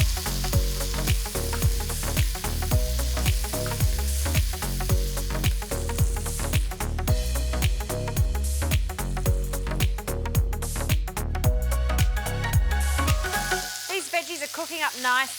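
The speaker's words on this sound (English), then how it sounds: "Veggies are cooking up nicely." Capsicum, onion, zucchini and eggplant sizzle loudly in a frying pan for chicken ratatouille, a steady close crackle broken by rhythmic stirring scrapes, fading at the end with faint background talk.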